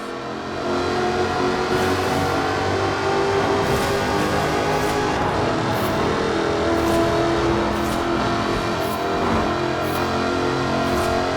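A supercharged 5-litre V8 in a British racing green, aluminium-bodied sports car in Forza Horizon 4 roars continuously at high revs, with a dense, loud engine tone and faint tire noise, and no voices.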